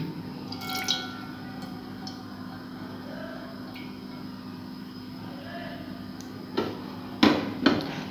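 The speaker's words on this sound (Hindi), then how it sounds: "इसमें हम डालेंगे घी" Ghee poured into a pan over a lit flame for a potato and egg curry, heard as a few soft drips and splats near the end over a steady low background hum.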